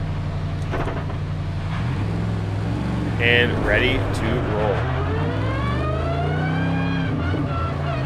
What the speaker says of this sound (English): We got engine on.